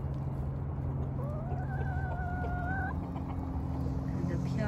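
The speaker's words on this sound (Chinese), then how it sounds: "看这漂亮的大公鸡，再给你们一点粮食，吃吧。" A rooster gives a drawn-out call over a steady low hum and rustling while being fed grain outdoors, one clear rising and falling vocalization lasting a couple of seconds.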